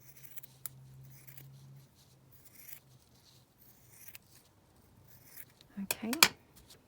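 Scissors cutting a piece of black lace, with faint handling noise and a brief low hum, then a quick close cluster of snips near the end.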